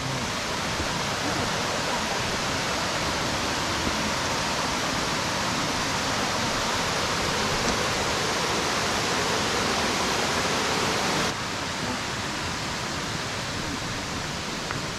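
Steady rushing water of Indian Creek in Great Smoky Mountains National Park flowing close by, a continuous broadband wash that drops slightly in level near the end.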